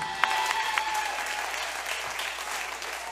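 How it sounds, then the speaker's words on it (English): Steady applause from an audience, dense clapping at even loudness throughout with a few brief higher tones near the start. "How about a big round of applause for our entire show tonight?"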